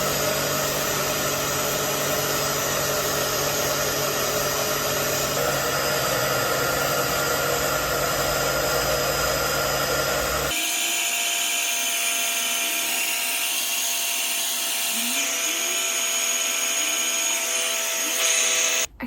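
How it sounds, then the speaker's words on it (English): A hair dryer on medium heat blows steadily with a loud, continuous whir, its tone shifting partway through as the setting or airflow changes, running uninterrupted throughout. "I'm gonna go in on a medium heat with the hairdryer just for a few minutes"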